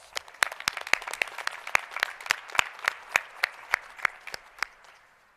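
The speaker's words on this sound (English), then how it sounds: "Let's give Coach one more round of applause." Sparse, rhythmic hand claps at a community college graduation ceremony, individual sharp claps in a steady beat, fairly quiet and sounding like a small number of people rather than a full crowd.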